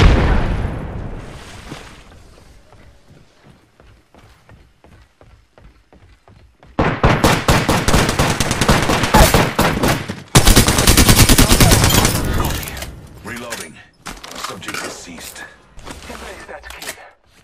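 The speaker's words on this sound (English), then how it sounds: "Throwing frag." Frag grenade blast and bursts of automatic gunfire in the battle royale game Apex Legends, with loud sustained firing after a quieter stretch of scattered shots, and a voice talking over the fight.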